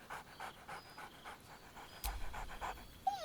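Scratch, a dog in Baldur's Gate 3, pants in quick rhythmic breaths, then gives a sharp bark, with faint game ambience underneath.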